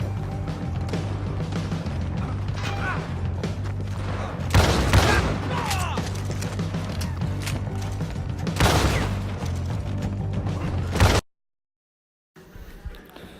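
Rifle gunfire in Red Dead Redemption 2 PvP, a dense run of sharp shots over steady game background noise, with two louder bursts and a brief silent gap near the end.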